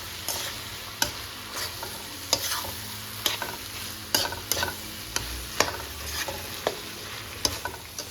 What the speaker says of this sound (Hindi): मैं इनको अच्छे से मिक्स करके